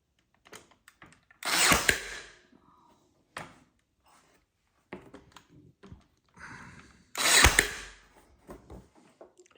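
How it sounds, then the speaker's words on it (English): A Ryobi brad nailer struggling with very small brad nails fires two sharp, loud bursts several seconds apart, with softer clicks and handling noises between them. "One of the peculiarities of our Ryobi is that it does not like really small brad nails."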